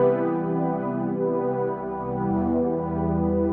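Sustained synth pad run through multiband distortion and reverb, with rich stacked harmonics whose level swells and dips in a slow pumping motion, alone with no talk.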